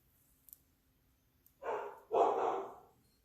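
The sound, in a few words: dog barking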